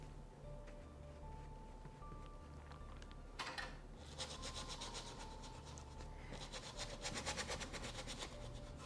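A paintbrush scrubs acrylic paint across canvas in soft, rapid back-and-forth strokes, faint and close, with the scratchy rubbing growing busier in the second half.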